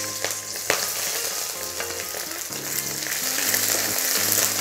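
Onions dropped into hot mustard oil in a wok for an Assamese dish, a steady close sizzle that builds in loudness, with a couple of sharp clinks near the start.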